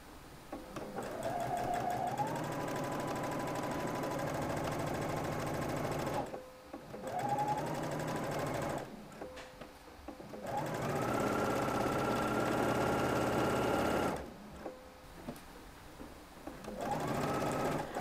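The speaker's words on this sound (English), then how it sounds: "drop your needle again, and continue sewing" A sewing machine stitches the point of a shirt collar, running in steady whirring bursts of rapid stitching with short pauses as the needle is walked and dropped, fairly close and without talk.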